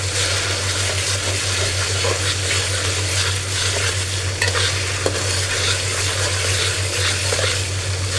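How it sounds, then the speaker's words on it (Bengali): Spices for vegetable and meat bhuna khichuri being stirred and fried in a pan, a steady close sizzle with scraping stir strokes over a constant low hum, no talking. "ভালোভাবে মিশিয়ে একটু কষিয়ে নেব যাতে কাঁচা ভাবটা চলে যায়।"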